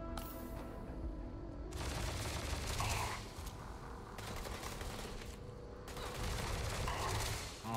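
Incendiary-round gunfire in Starfield, loud rapid automatic bursts in several long volleys separated by short gaps, with a voice faintly in the background.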